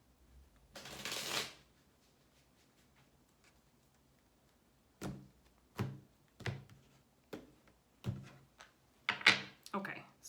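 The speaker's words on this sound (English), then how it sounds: "I got to do one more shuffle." A deck of tarot cards is shuffled up close, first in one long riffle and then in a series of short, sharp riffles and taps at irregular intervals, with no talk.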